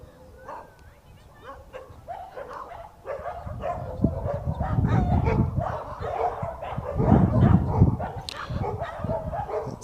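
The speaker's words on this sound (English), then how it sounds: "dog communication hour, as you can hear." Several dogs bark, yip and whimper in overlapping bursts, growing louder and busier partway through, with a voice talking underneath.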